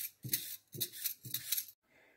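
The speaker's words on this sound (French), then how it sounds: "Éplucher les pommes de terre." Potatoes are peeled at close range in three quick, evenly spaced scraping strokes, followed by a faint pause.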